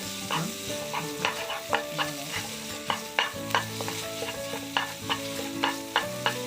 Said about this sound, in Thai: ใช้หมูบดประมาณ 50 กรัมครับ เอาลงไปผัดกับพริกเกาหลีก่อนเลยครับ